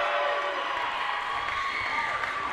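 A crowd at a wrestling match in Paris, Texas cheering and clapping in a steady continuous roar, with no clear peaks.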